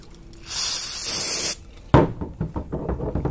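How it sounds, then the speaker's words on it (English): Brake cleaner sprays onto the caliper pins of a Toyota Camry's front brakes in one steady hiss of about a second, followed by a sharp knock and some quiet handling clatter. "Spraying a little bit of brake clean here."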